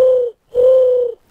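A human voice imitating a mourning dove call, with two smooth hollow coos, a short one and then a longer held one, sounding close and clear after a brief pause.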